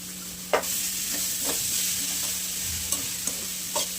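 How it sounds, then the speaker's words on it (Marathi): Chopped onions (six of them) added to fried thecha and stirred in a pan, giving a steady frying hiss with a few scraping stir strokes, close and alone. "आता 6 कांदे कापून घेतले आहेत ना मी, टाकणार आहे आपण याच्यात."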